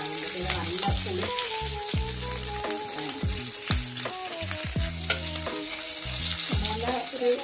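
Kudampuli (garcinia) frying in hot oil for a Kerala-style snakehead fish curry, a loud continuous sizzle close up, broken by scraping stirs and a few sharp clinks.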